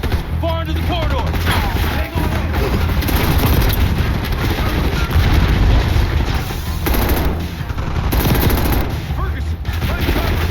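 Sustained machine gun fire in the Call of Duty Black Ops 6 video game, loud, dense bursts of automatic gunfire running continuously with battlefield noise and occasional game voices.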